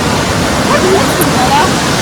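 A mountain river rushes loudly and steadily close by, a dense roar of flowing water filling the whole moment, with a voice faintly present beneath it.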